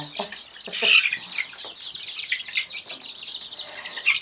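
Chickens cluck and chatter in a busy, overlapping flock, with soft repeated clucks and a few louder squawks nearby.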